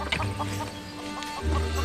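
Chickens cluck close by on a farm in a period drama, with a couple of short bursts of clucking over a steady low hum and no talk.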